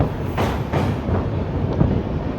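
The Bhubaneswar–Howrah Jan Shatabdi Express crosses a rail bridge over the Rupnarayan River, heard from on board as a close, continuous rumbling roar with faint rhythmic clatter and no talking.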